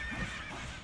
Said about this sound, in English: Hitting an innocent horse. How could you?